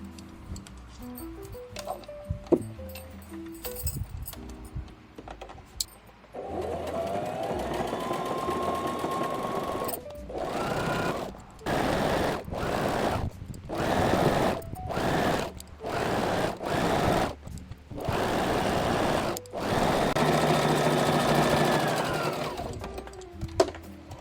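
A sewing machine runs close and loud as it stitches the second side seam of a T-shirt, in a string of short, rapid bursts separated by brief pauses, followed by one longer continuous run.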